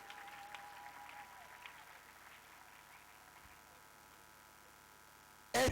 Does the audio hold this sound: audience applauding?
yes